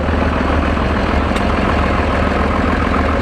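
An antique gas engine rumbles steadily as it is towed along in a small-town parade, a loud continuous mechanical drone with no voices over it.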